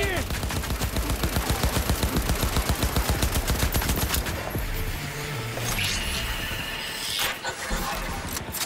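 Rapid automatic gunfire in Cyberpunk 2077 Phantom Liberty, a loud, steady machine-gun stream of closely spaced shots for about four seconds, then fading into echoing impacts and debris crashes.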